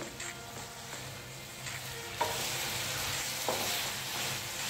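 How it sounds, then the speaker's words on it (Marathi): Mixed vegetables for a veg frankie filling stirred in a pan, soft frying sizzle with periodic spoon scrapes against the pan, quiet and close, no talking. "व्यवस्थित सगळं मिक्स करून घ्यायचं आहे हे।"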